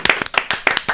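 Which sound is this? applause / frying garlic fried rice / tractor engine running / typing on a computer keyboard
applause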